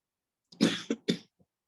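A person coughs three times in quick succession, close and fairly loud, followed by a faint throat sound.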